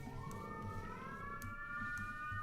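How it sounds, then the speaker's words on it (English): Emergency vehicle sirens in New York City wail at a distance, a faint tone that slowly rises and holds over low street rumble, with a few light clicks along the way. "It's New York City sirens."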